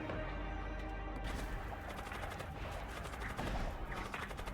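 Weapons fire in the space combat game Void War, a dense run of rapid gunshot-like bursts and crashes that stays loud and continuous throughout, with no pause.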